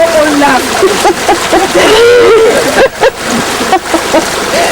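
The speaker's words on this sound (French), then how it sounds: "Et on est obligé de le laver à la rivière." River water splashes and sloshes as a mud-covered person is washed off on a riverbank near the China–Vietnam border, close irregular splashing with voices talking over it.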